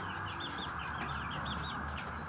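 Ancona and Buff Minorca chickens cluck and chirp in short, repeated calls over a steady background hum. The calls sound fairly close and fairly quiet.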